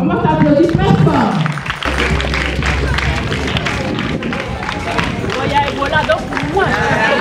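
An audience at a Côte d'Ivoire school event applauds loudly, dense continuous clapping mixed with crowd hubbub, and voices speak through it.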